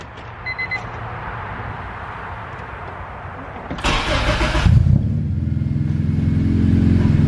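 A K24-powered Acura Integra engine cranks with a whirring starter, catches, and settles into a rough, pulsing idle up close, with faint background noise beforehand.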